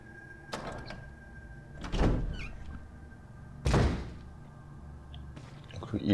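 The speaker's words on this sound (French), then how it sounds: "vous avez déverrouillé la porte" A door unlocking and opening in the 2002 Resident Evil remake, heard as a few heavy thunks spaced out over several seconds, fairly loud against a low game background, with no talk.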